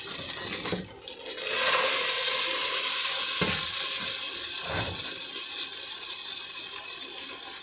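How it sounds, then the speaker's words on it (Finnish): About 50 grams of butter melts in a hot pan, the start of a fish soup made with pollock. A steady, loud hiss and sizzle rises after a brief quiet start and continues throughout, with a couple of soft knocks. "Siinä on nyt 50 grammaa voita."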